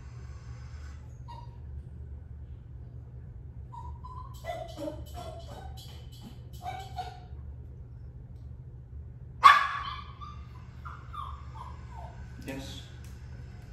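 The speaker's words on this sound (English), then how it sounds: "we have a dog at the fence who wants to be out here training, getting some food" A dog at a fence barks and yips a few scattered times at a distance, with one sharper, louder bark midway, over a steady low hum; a person speaks quietly nearby.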